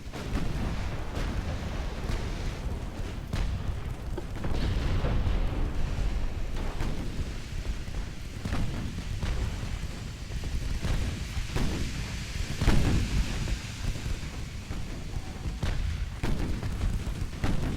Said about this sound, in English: Cruiser fire coming from over this direction.